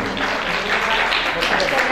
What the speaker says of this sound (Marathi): मुलांचं कौतुक आपण टाळ्या वाजवून करू शकतो.